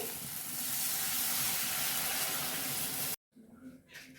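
Water poured into a hot pan of fried cumin-coriander spice paste makes a loud, rushing steamy hiss for about three seconds, then stops abruptly, followed by faint bubbling.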